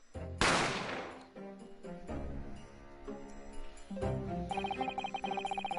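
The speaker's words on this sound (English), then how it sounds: "I didn't have time to think about where the sound of the gunshot had come from." A single loud gunshot cracks out in The Great Ace Attorney Chronicles, a sudden close blast that decays over about a second before dramatic game music takes over.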